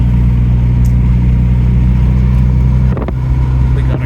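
A 1985 Dodge Omni GLH Turbo engine hums steadily from inside the cabin while driving, a close, even drone with a brief dip and clunk as the gear changes.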